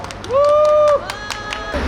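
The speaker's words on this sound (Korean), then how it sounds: "힘찬 박수로 모시겠습니다." Light, scattered clapping from a small outdoor press conference crowd, briefly overlapped by a steady high electronic tone, then a few more sparse claps.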